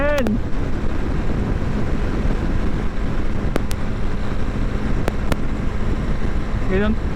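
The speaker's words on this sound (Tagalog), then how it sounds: "Grabe yung hangin." Strong wind buffets a microphone while riding a motorcycle on open roads, a loud, steady roar that runs the whole time, with a few brief sharp chirps and a voice speaking over it.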